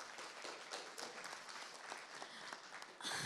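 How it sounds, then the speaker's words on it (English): An audience at an evening event on minority and women entrepreneurs gives a steady, dense round of applause that carries all the way through and swells slightly at the end. "If we could give him a round of applause."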